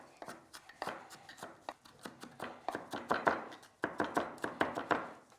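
Knife chopping shallots on a cutting board, a steady run of sharp, close taps that speed up and grow louder toward the end, with no talking.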